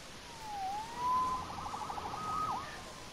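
A police siren in Marvel's Spider-Man wails and then switches to a rapid yelp, rising and falling at moderate distance over low background noise.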